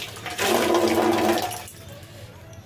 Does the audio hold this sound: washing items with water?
yes